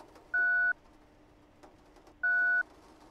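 A phone rings inside the video game Dispatch: two electronic ring tones, each under half a second and about two seconds apart, clear over a faint, quiet background hum.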